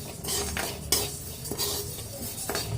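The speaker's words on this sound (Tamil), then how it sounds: "இதுவும் கைவிடாமல் மீடியம் ஃப்ளேமில் ரோஸ்ட் பண்ணினே இருங்க." Lentils roasting in a pan over a medium flame, stirred constantly with a metal spoon: repeated scraping and clinking strokes against the pan under a light, quiet sizzle, no voices.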